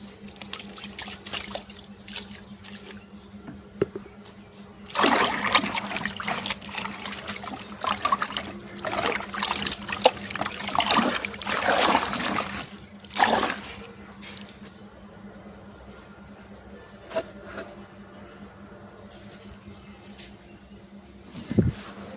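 Clothes being hand-washed in water, with splashing, squishing and trickling that swell into a busy, loud stretch in the middle, then fall back to quieter dribbles and drips; no talking.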